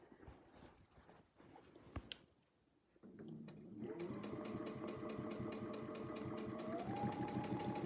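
Domestic sewing machine free-motion quilting a meander pattern: after a few soft handling noises it ramps up to a steady, fast, even stitching whir that continues to the end.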